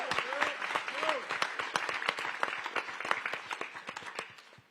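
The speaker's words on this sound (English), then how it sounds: "Round of applause for Phil Nicoletti." Applause at a Supercross pre-race press conference: a small group claps in distinct, fairly close sharp hits that thin out toward the end, with a brief voice near the start.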